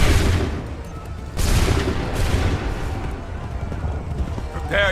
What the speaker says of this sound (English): Wait for my signal. Fire!